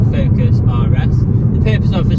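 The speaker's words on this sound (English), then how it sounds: "Video test drive of this Ford Focus RS." Steady low engine and road rumble of a Ford Focus RS on a test drive, loud and continuous from inside the cabin, with someone talking over it.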